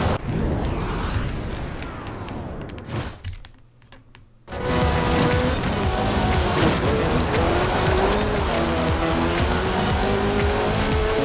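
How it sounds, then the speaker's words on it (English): Off-road racing in Forza Horizon 4 brings a loud, steady engine roar with tire squeal and skidding, which drops to a near-silent gap before the drive surges back at full volume. "this car is so slow on the road"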